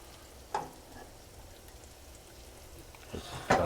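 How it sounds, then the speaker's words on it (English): Broth ladled into a pan of sizzling risotto Milanese, with a soft frying hiss throughout and brief splashing pours near the start and again toward the end. "Now we're going to start adding the broth a little bit at a time."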